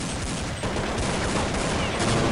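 Dense, continuous gunfire from Counter-Strike 1.6, a rapid rattle of automatic shots with an M4A1 fills the mix loudly, with no pauses.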